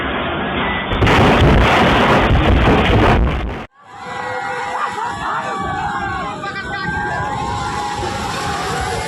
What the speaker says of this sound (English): Floodwaters rushing through the river destroyed this newly built bridge in India